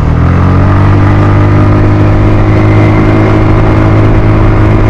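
A Suzuki Skydrive scooter engine revs hard and steadily while climbing a steep uphill road, a loud, continuous, close-up drone with strong low harmonics that holds for the whole stretch.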